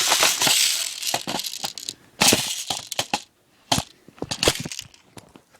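Magazine being pushed and clicked into a Thompson M1A1 airsoft gun, a close series of sharp clacks, rattles and scraping handling knocks with brief pauses between them.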